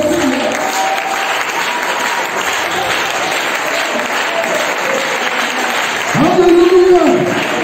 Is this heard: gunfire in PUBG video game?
no